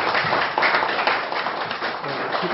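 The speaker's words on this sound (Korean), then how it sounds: "한 번 더 우리 참 동의하고 감사하니까 박수를 드리겠습니다" An audience at a lecture hall talk gives a continuous, even round of applause, a dense wash of clapping with no distinct voices.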